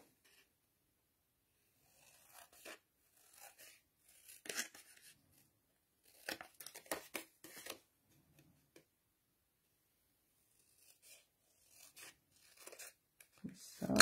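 Blade or scissors cutting card for a handmade chocolate box, faint scattered snips and scratchy tearing strokes in irregular bursts separated by near silence, close and quiet.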